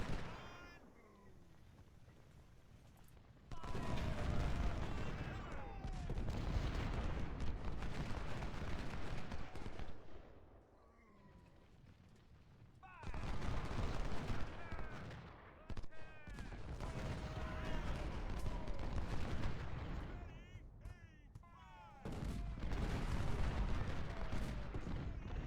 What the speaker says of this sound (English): So he's going to take a lot of punishment from this cannon.